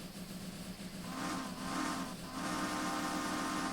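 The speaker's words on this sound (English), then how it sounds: "I am just full of whistle salutes today," A steam locomotive on the BFR sounds a whistle salute during an early-morning stopping service, sustained hooting blasts with a brief break between them, heard over hissing steam and running noise.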